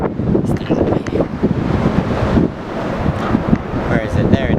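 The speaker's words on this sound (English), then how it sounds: "it's very, very windy up here" Strong gusting wind buffets the microphone up on the Golden Gate Bridge, a loud rumbling roar that rises and dips unevenly, with a voice talking through it.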